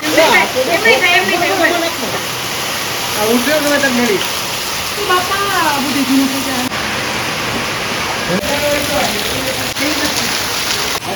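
Heavy monsoon rain pours steadily in Junagadh during flooding at home, a constant broadband wash that runs throughout, with people talking and calling out over it.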